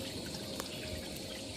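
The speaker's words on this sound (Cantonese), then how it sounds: "流水聲，不過好少水啊！" A small, shallow stream trickles over rocks in a Hong Kong country park gorge during stream-hiking season, a steady soft babbling flow heard alone at close range with no voices.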